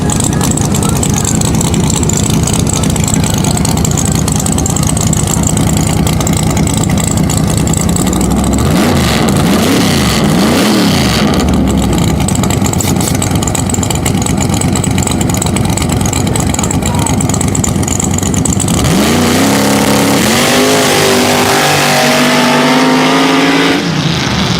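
A mud bog truck at an Orangeburg mud bog event, run without a wheelie bar, roars loud and close at full throttle, its engine pitch climbing and falling through repeated revs, with a fresh surge near the end and crowd voices under the din.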